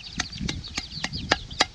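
A fighting rooster gives a rapid series of about six short, loud clucking calls close to the listener, evenly spaced in a quick rhythm.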